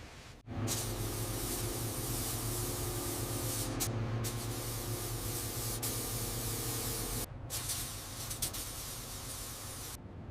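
A spray gun lays clear coat on a 1955 Mercedes 300SL Gullwing under restoration, producing a close, continuous hiss that breaks off briefly a few times before resuming.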